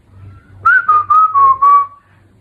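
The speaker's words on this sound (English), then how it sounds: "they blow whistle" A single pitched tone, whistled or blown, in five short clear bursts over about two seconds, with a low hum in the background.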